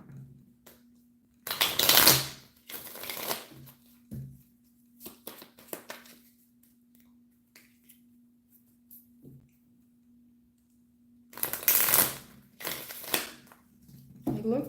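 Tarot cards being shuffled in two brisk bursts separated by quieter taps and handling sounds, close up, with a low steady hum underneath.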